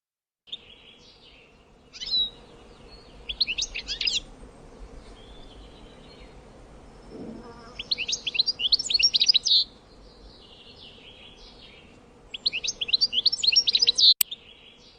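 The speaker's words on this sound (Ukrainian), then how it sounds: "Щіголь це співочий птах. Послухайте його спів." A European goldfinch sings in quick twittering, tinkling bursts separated by pauses, clear against a quiet background.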